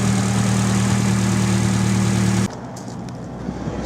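A Nissan 180SX's non-turbo SR20 engine idles close by with a steady, humming drone, then the level abruptly drops about two and a half seconds in, leaving a quieter rumble.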